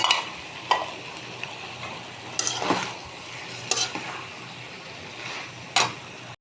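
Stinging catfish goes into a hot pan with spinach-like pumpkin greens and potato, giving a steady close sizzle broken by several sharp scraping stirs.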